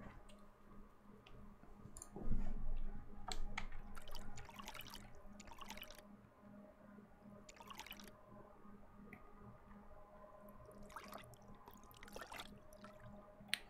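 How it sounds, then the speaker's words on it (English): Gentle water sounds from a river in the game When Rivers Were Trails, a soft steady wash with scattered drip-like clicks and splashes, fairly quiet and continuous without talk. "It's really nice water sound."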